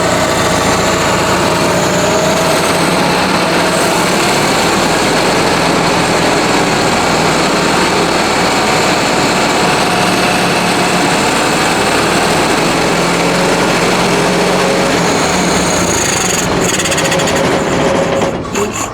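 An Onan Marquis 7000 generator engine running roughly, as if starved of fuel, with a loud, continuous rapid chattering drone up close that falters slightly near the end.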